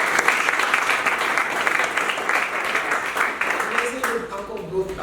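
An audience at a talk on student entrepreneurship applauds the students in a sustained wash of clapping, and voices talk over it toward the end.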